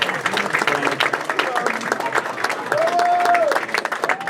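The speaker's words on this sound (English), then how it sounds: "He deserves a great round of applause." Audience at a gala dinner applauds the governor with sustained, even clapping from many hands, while a voice speaks over part of it.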